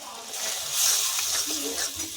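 Tangra fish with brinjal sizzling steadily in oil in a pan as the curry masala is fried, a continuous close hiss with soft bubbling and small crackles, no talking.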